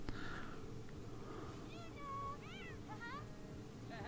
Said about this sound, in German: Was ist mit der Katze los?